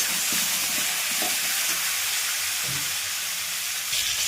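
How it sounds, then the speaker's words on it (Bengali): Pointed gourd and potato pieces fry in oil, a continuous close hiss of sizzling with a few soft utensil knocks and stirs, no talking. "ভালো করে লাল লাল করে ভেজে নিতে হবে পটল আলুগুলো"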